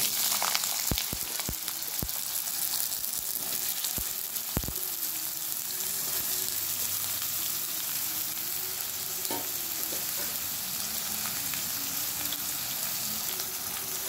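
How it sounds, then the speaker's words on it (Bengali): Chopped potato and eggplant fry in hot oil with a steady, loud sizzle, broken early on by a few sharp crackles and pops, with occasional stirring, and no voices. "এবার আমি কেটে রাখা এই যে আলু আর বেগুন দিয়ে দিচ্ছি।"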